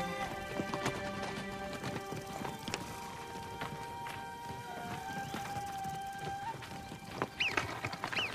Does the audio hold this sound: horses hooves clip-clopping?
yes